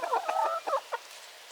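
Chickens cluck in a rapid run of short calls near at hand, then a couple of softer clucks trail off, with no one talking.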